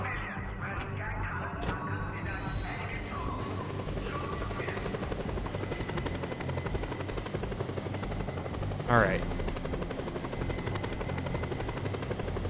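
A helicopter flies in a video game, its rotor drone a continuous, even wash throughout, with a voice speaking briefly near the end.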